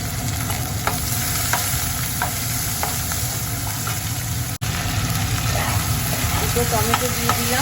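Spices, ginger-garlic paste, cumin, turmeric, chilli, salt and onion frying in a pan, a steady loud close sizzle with occasional stirring clinks throughout.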